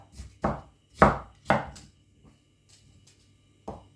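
Knife chopping sausages into small pieces on a board, three firm cuts in quick succession, then quieter taps and one more cut near the end, close and alone.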